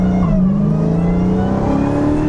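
Close, loud revving of a supercharged 2021 Dodge Charger Hellcat Redeye, with the engine pitch rising and falling in a brief, continuous rev and no voices.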